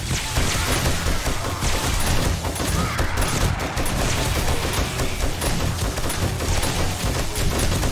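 Dense, continuous gunfire rattles against a horde of zombies in 7 Days to Die, rapid shots overlapping loudly and close for the whole stretch with no pauses.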